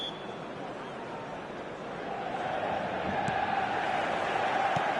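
A stadium crowd roars and chants before kick-off in a football video game, a dense, steady wash of voices that swells louder midway and stays loud throughout.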